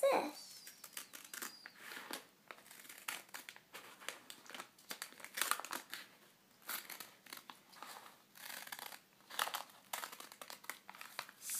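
Scissors repeatedly cut through paper in a steady series of close, crisp snips and crinkles while a goodie bag is crafted.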